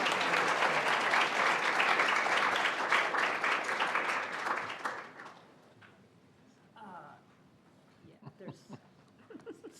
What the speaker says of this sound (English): I'd like to ask you all to, for a round of applause to welcome our panelists.